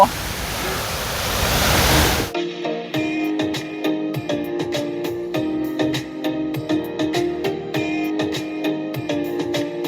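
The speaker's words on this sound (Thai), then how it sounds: "แล้วดูน้ำตกอยู่นี่" Waterfall in Doi Inthanon National Park, Chiang Mai, roaring as a loud continuous rush of water at first, then cutting to a softer scene where a clicking, knocking rhythm and faint water noise continue.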